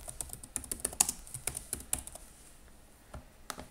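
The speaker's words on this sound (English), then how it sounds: "Let's test out my keyboard." Typing on a computer keyboard during a Linux Mint installation, rapid irregular clicky keystrokes close by, clustering in quick bursts then thinning into a few scattered taps.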